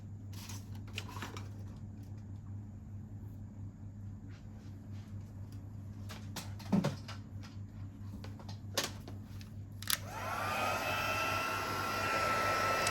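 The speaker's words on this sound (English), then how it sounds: "I'm going to grab my heat tool and we'll just melt that powder" A heat tool blows hot air to melt embossing powder on a papercraft treat box, its whirring hiss starting up toward the end and running steadily after a few earlier handling clicks and rustles.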